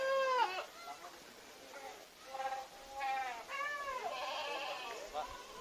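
Goats on a livestock farm bleat repeatedly in wavering cries, close and fairly loud, one call following another over a steady background hiss.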